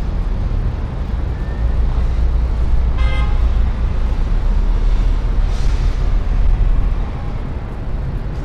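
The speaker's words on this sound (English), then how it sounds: "Look at the crazy traffic." Busy road traffic with a loud continuous rumble of car and bus engines, close by, broken by a short horn toot and a few distant honks.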